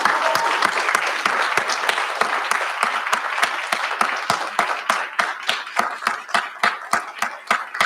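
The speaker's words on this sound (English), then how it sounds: "May I please have all the staff and faculty to stand up and turn to our graduates and give them a rousing round of applause" Staff and faculty at a graduation recognition ceremony give the graduates a round of applause: dense, sustained clapping from a crowd with distinct sharp individual claps standing out near the microphone, steady throughout and then thinning slightly toward the end.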